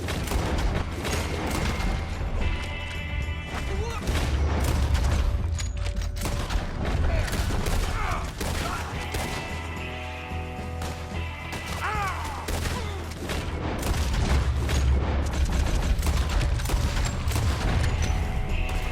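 Gunfire in a Red Dead Redemption 2 shootout: dense, continuous volleys of shots and booming blasts throughout, with crashes and shouting voices mixed in.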